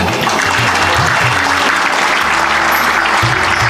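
An audience claps loudly and continuously at a school annual day prize distribution, a thick sustained round of applause with low musical or hum tones pulsing underneath.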